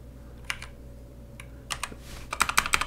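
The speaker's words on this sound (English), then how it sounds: "we can type" Keys clatter on a computer keyboard in short scattered bursts, a few isolated taps followed by a quicker cluster of keystrokes, close and fairly quiet over a low background hum.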